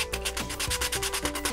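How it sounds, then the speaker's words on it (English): Sandpaper rubbing back and forth over painted wood on a model rocket, a steady close scratchy rasp in quick repeated strokes, with no voices. "And as you're sanding, you gotta watch out that your paint doesn't gum up your sandpaper."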